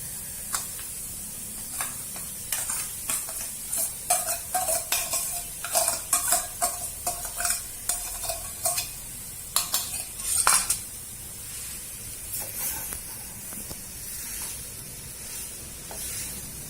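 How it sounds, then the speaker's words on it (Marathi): A spoon stirs and turns a potato and beetroot mixture with masala in a pan, giving irregular scraping clicks and clatters against the metal over a soft background sizzle. "बटाटे, बीट आणि त्याला चांगला मसाला लागला पाहिजे। चांगलं खालीवर करा।"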